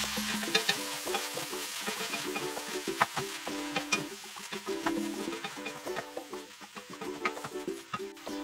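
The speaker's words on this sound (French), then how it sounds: "On mélange bien le tout." Pumpkin (potimarron) mixture stirred in a pan for a pumpkin gratin, with repeated scraping and clinking strokes in a steady rhythm alongside a light background sizzle, close and moderately loud, with no talking.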